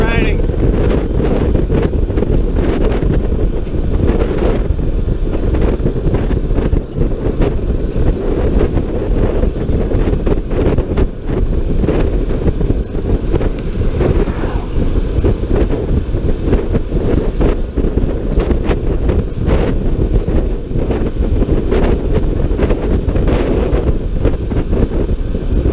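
Steady wind roar buffets the microphone of a Honda ADV 150 scooter riding on an overcast day in the Philippines, a continuous low rumble running the whole way with no break.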